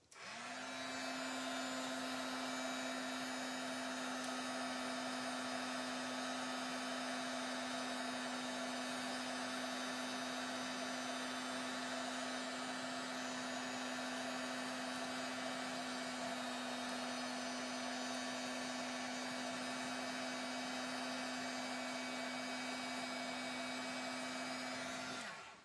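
A heat tool blasts embossing paste to dry and burn it, a constant loud whirring hum with a steady drone that holds unbroken and close for the whole stretch.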